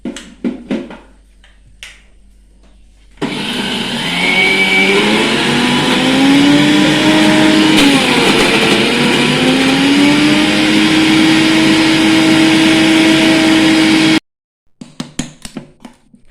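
A kitchen mixer grinder whirs steadily for about eleven seconds as coconut chutney is ground with added water, a loud continuous motor drone with shifting pitch, framed by brief clatters and knocks before and after.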